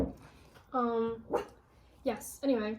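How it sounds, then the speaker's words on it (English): A small dog gives a few close, high-pitched barks and yips in a home, spaced out in quick bursts, with someone speaking briefly in between. "That's our dog."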